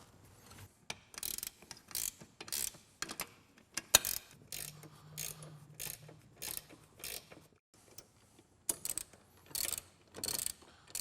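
Ratchet wrench tightening nylock nuts and washers onto Jeep TJ seat mounts, a run of quick clicking bursts in short clusters separated by pauses, fairly close and moderately quiet.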